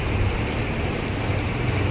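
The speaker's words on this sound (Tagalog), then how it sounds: "Sarap din pala pag umuulan." Heavy rainfall on a dark, windy morning in Abu Dhabi, a constant close wash of hiss with a low rumble underneath and no voices.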